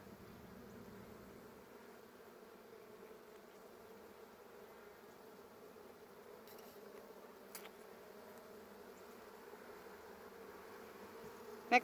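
Honeybees buzz in a soft, steady drone around an opened hive, agitated during a frame inspection, with a couple of faint clicks and a small knock at the end.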